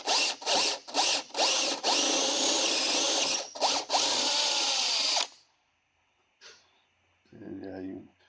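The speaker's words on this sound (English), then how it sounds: "finish drilling this hole" A power drill whines loudly in several short bursts, then runs steadily for a few seconds before stopping; a brief voice follows near the end.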